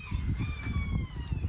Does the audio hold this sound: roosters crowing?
yes